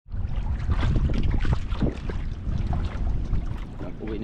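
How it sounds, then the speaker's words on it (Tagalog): River current rushing steadily beside a boat in the afternoon, a continuous broadband wash of flowing water with some wind buffeting the microphone, loud and close throughout. "Ganda ng agos."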